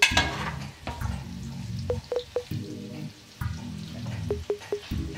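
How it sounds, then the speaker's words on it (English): Vegetables sizzling in heated oil in a pan, a steady fry broken by bursts of stirring and sharp utensil clinks against the pan, close and fairly loud, with no talking. "Now that our oil is all heated, I'm going to add in the vegetables. And then give that a quick stir."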